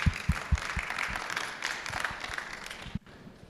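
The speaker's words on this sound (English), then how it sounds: "one more round of applause" A town hall meeting audience gives a round of applause, steady moderately faint clapping with some louder claps up close, cutting off abruptly near the end.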